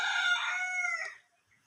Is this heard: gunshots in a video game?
no